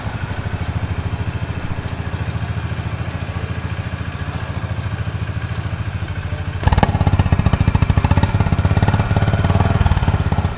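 A Honda CB350 RS motorcycle engine idles with a fast, even thumping exhaust beat heard up close, then jumps louder and rougher partway through as the throttle is blipped, with no talking.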